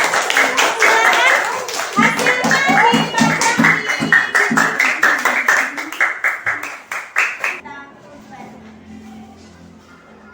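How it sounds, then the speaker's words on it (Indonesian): Students in a classroom clap for group 2 in a rhythmic patterned beat, loud and close with sharp, regular strikes that slow and stop after several seconds, leaving quieter talk behind. "Tepuk tangan buat kelompok 2 ya"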